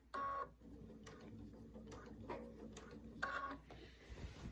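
A sewing machine stitches down fabric binding in short runs of rapid mechanical whirring, with brief pauses and handling noise between the bursts, close up.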